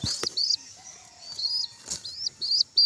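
Pigeons shuffle and flap inside a cardboard carton, with bursts of wing rustling and thumps mixed with high chirps and soft calls, close up.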